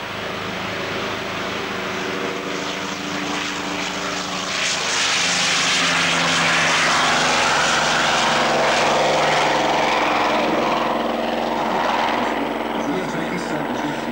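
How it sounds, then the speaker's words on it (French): A model aircraft fitted with a big R2800 radial engine runs at an airfield, a loud continuous propeller drone that swells midway and holds steady, close and rich with low rumble, with faint talk underneath. "Il semblerait qu'il y ait un énorme R2800 qui tourne."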